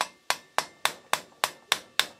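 Seven sharp metallic taps ring out at a steady pace as a drift punch is struck to drive a pin out on a Harley-Davidson Street Rod 750 during servicing, each hit close and crisp with a brief decay.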